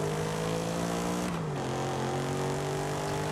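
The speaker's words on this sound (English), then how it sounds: "doesn't sound like a Coyote because it's Cosworth tuned" A Cosworth-tuned engine with side-exit exhausts at the front fenders revs in the racing game Forza Horizon 5, a continuous loud droning tone that dips in pitch briefly before holding steady.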